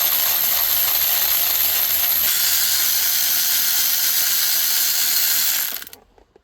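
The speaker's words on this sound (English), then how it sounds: "now I'm doing the Torx T30, and taking both sides out." A ratchet runs in a fast, continuous clicking whir while removing Torx T30 bolts inside a car interior, close and steady for nearly six seconds before cutting off.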